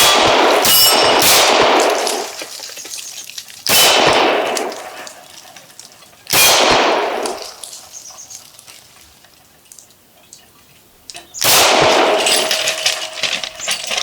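Glock pistol fitted with an RMR sight fired outdoors, four loud, sharp shots spaced a few seconds apart, each with a bright ringing tail as rounds ricochet off the ground; no talking.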